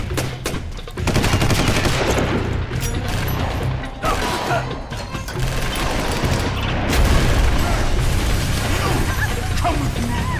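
Loud, dense gunfire in the Rainbow Six 3: Black Arrow video game, continuous automatic bursts with booming impacts rumbling underneath, sustained at close range with only brief dips.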